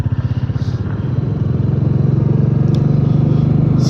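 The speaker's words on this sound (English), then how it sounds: "Do a little night ride here on the Royal Enfield." A Royal Enfield Classic 350 thumps steadily on a night commute, its single-cylinder beat loud and close, its pulses quickening slightly as the engine picks up speed.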